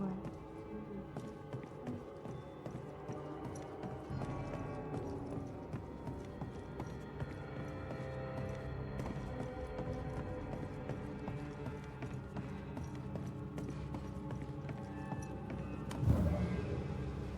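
Horse hooves clip-clop steadily as the horse pulls a sleigh in the video game Banishers: Ghosts of New Eden, a soft continuous trotting rhythm under a bed of music and voices.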